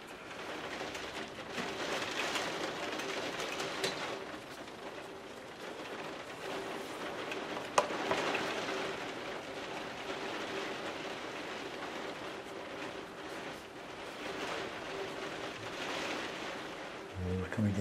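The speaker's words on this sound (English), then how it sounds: "can you hear the rain?" Steady rain falling outdoors, a continuous broadband hiss with gentle swells in intensity, the occasional louder drop or knock breaking through.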